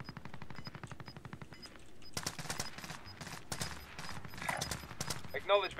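Rapid machine-gun bursts and single shots from a Call of Duty Warzone match, clattering in quick rhythmic volleys that grow denser and louder partway through, with voices talking faintly underneath.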